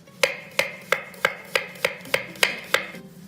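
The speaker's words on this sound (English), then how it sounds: "Take off the end and then thinly slice it." A knife thinly slicing a vegetable on a cutting board, with nine crisp, evenly spaced cuts in a steady rhythm, close up, with no talking.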